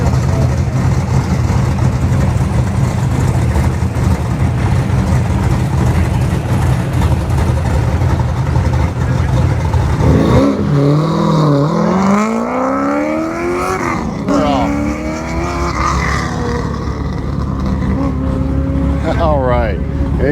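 Dodge drag racing car at a Roadkill Nights event: a loud engine roar under steady crowd and voice noise, then a rising, sweeping rev as it launches and pulls away, with further climbing engine tones after.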